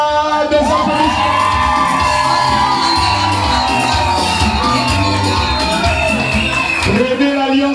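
Crowd at a civil wedding ceremony in Gabon cheering and whooping, with children shouting and voices calling out, loud and continuous throughout with a brief harmonic tone near the end.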